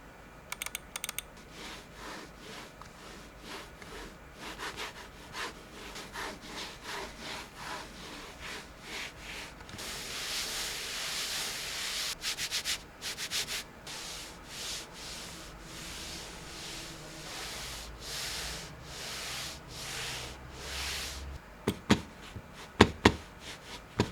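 A mouse slides across an Artisan Hayate Otsu V2 cloth mouse pad in repeated swipes of varying speed, a close, dry rasping rub with occasional sharp taps near the end.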